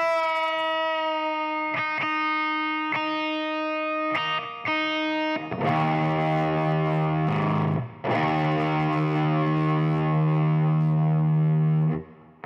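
An electric guitar with distortion, strings detuned a half step, plays sustained notes and struck chords, first cleaner single hits, then heavier ringing distorted chords that cut off abruptly at the end.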